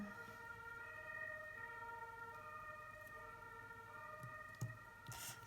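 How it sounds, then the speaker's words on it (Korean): A siren wails outside, faint and distant, as a steady tone over low background hum, with a couple of small knocks nearby near the end. "갑자기 경고음 같은 게 이런 사이렌이 울렸잖아요"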